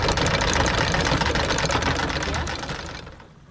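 A sailboat's outboard motor runs with a fast, buzzing, mechanical chatter, close and steady, then winds down and fades out as it shuts off.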